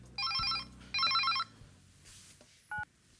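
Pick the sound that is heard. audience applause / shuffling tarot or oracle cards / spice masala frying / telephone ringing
telephone ringing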